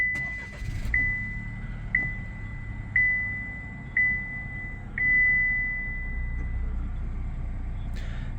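A 2024 Chevrolet Trax LT pushed to start with the button: a steady chime beeps about once per second, five times, over a low engine idle that settles into a smooth, quiet hum.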